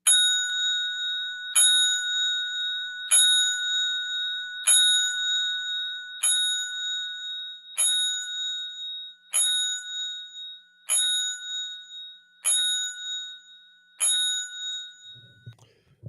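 Ten bright metallic bell strikes ring out for a radio tribute, evenly spaced about every one and a half seconds, each ringing and fading before the next, with a faint low sound at the very end.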